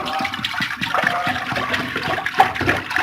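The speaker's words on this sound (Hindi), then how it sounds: "3 किलो दूध जो है वो इसके अंदर मैं डालूंगी" Three kilos of milk poured into a large cooking pot for rice kheer, a loud gushing, splashing liquid stream that fills the short stretch without speech.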